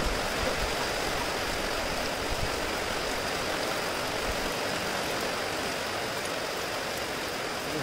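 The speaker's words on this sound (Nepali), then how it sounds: "झरना" A village waterfall pours steadily in a constant broadband rush of falling water, fairly faint and unbroken, with no voices over it.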